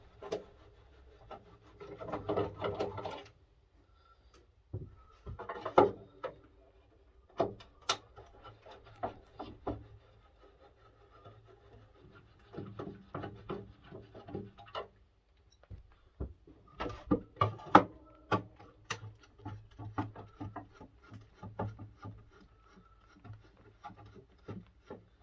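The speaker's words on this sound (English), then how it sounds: "Screws are set quite deep, so it does need a long screwdriver." A long screwdriver works deep-set screws out of an old-style TV casing, giving intermittent creaking, grinding turns and scraping bursts separated by pauses, close up.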